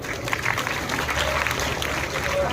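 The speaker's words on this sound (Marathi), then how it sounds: "सरांसाठी पुन्हा एकदा टाळ्या झाल्याच पाहिजे" Audience applause for a guest comic actor at a guidance talk in Gadchiroli district, a dense steady clapping from a crowd lasting throughout, fairly close and even with no breaks.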